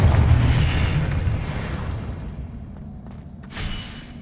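Confringo fire spell going off in Hogwarts Legacy on PS5, a loud rumbling blast that swells at once and slowly fades, with a smaller burst near the end.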